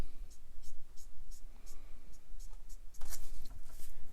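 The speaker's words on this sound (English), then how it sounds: "Let me erase out some of these lines just a little bit more." Eraser rubbing out pencil guidelines on paper during a Copic marker drawing of Superman, heard as a series of soft, rhythmic scrubbing strokes close up, with a louder burst of rubbing near the end.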